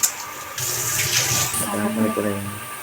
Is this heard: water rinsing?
yes